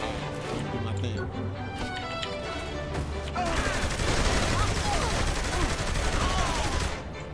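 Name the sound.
grenade explosions in the video game Saints Row: The Third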